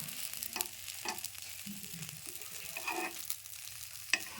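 Food fries in a pan and gets stirred, soft sizzling broken by a few scraping spatula strokes and light knocks, fairly quiet with no voices.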